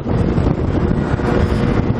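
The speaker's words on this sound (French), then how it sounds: "il y a le vent qui est contre moi" Headwind buffets the microphone on a moving scooter, a loud, continuous rumbling roar that swells and dips slightly over two seconds.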